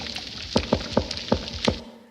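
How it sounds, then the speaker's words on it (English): A reef croaker fish on a coral reef, recorded underwater: about five sharp, low knocking pulses in an uneven series over a steady hiss of reef background noise. "This is the sound of a reef croaker."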